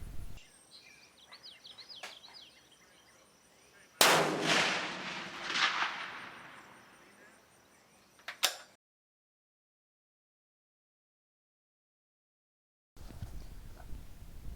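A Remington 700 AAC-SD bolt-action rifle fires at a 100-yard range, two sharp reports a few seconds apart, the first ringing out with a long decay. Outdoor ambience and faint bird calls fill the gaps.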